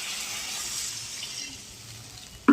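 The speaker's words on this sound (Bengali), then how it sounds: "এবারে আমি এর মধ্যে জলটা দিয়ে দেবো" Water is poured into cooking masala for a Bengali doi katla fish curry: a soft, steady, close pouring and splashing that fades out, then a brief sharp clink at the end.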